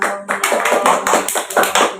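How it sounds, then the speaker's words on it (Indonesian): A group of students in a classroom during a microteaching session clap together loudly and close by. The claps come in rhythmic, pulsing bursts with no talk over them. "Tepuk tangannya dulu dong."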